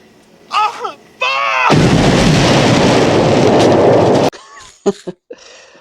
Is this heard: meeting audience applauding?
no